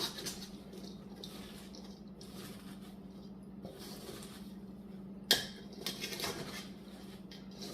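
Chopped cabbage tossed with salt in a bowl, soft scraping, clinking and patter as it is mixed down to the bottom, quiet and close over a steady low hum.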